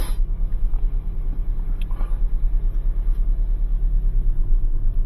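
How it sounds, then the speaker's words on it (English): A car drives along the road on a Sunday morning, its engine and tires making a continuous, even low rumble close by with no voices. "while we're driving onto this call on this beautiful Sunday morning"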